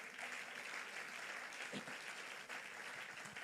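Church congregation applauding and cheering God during a Sunday service, a sustained crowd of clapping with scattered voices, moderately distant and steady.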